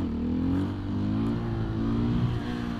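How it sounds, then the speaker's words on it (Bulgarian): A motorcycle engine revs hard while the bike is held up on its rear wheel in a wheelie, its rising and falling pitch loud and close in a short burst with no voices. "Не трябваше да връщам газта да пада мотора."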